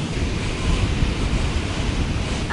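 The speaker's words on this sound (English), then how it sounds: "Look at these waves." Ocean waves at a beach wash in continuously as a broad, rushing roar with wind buffeting the microphone, steady and close, with no talking.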